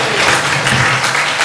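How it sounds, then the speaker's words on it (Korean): A congregation applauds during a Korean church worship service: dense, steady clapping fills the whole moment at close, loud level with no talk. "박수로 하나님 앞에 영광을 돌립니다."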